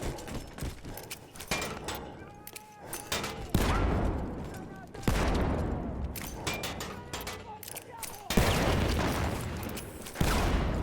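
Gunfire and explosions from a war video game come in dense, repeated cracks and booms, with several heavy blasts through the stretch and continuous battle noise.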